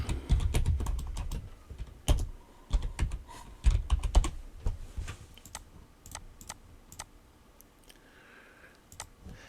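Brisk typing on a computer keyboard while setting up an RPG Maker MZ plugin, with quick clusters of clicks near the start that thin out into scattered taps, close-miked and with no speech.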